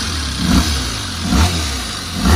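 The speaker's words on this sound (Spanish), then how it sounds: "Vamos a darle un poco al puño." Honda RC30 VFR750R motorcycle engine revved at an inspection station, loud and close, with the throttle blipped in repeated surges over a rough, rumbling idle.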